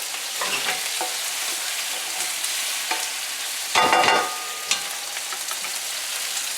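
Bok choy sizzles and fries in a hot pan, a loud steady hiss up close, broken briefly by a stirring scrape and a few clacks, with no one speaking.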